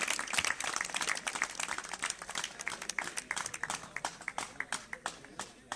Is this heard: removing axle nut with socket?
no